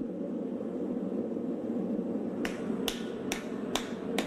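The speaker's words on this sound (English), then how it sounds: "In a ballet of heating, hammering, and reheating, he adds the steel bit." A blacksmith hammering a steel bit onto an axe head, five sharp metallic strikes in an even rhythm over a steady roar of forge noise.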